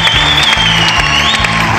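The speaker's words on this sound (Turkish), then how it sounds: "alkışlar bizim futbolcuya" Loud studio audience applause and cheering for a footballer on a Turkish TV football show, dense and continuous over a tonal musical backdrop with a sustained high whistle-like line.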